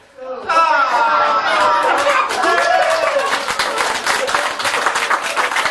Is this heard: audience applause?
yes